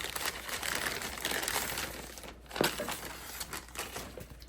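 A protective case package for an XTEINK X4 e-reader is torn open along its perforated dotted line, giving quiet, close papery crinkling and ripping in short bursts, with one sharper tear partway through.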